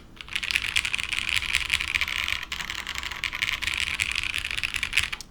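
Continuous typing on a Matrix 8XV mechanical keyboard fitted with a single sheet of foam, a dense run of close, fairly quiet keystrokes with a brief pause partway through, and no talking.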